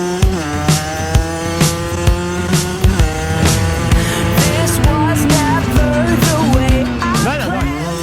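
A motocross motorcycle engine drones loudly and steadily up close while riding, its pitch rising and falling as the rider shifts gears and accelerates, with brief sharp knocks throughout.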